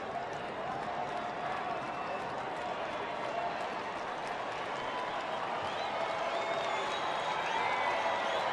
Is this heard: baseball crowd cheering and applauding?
yes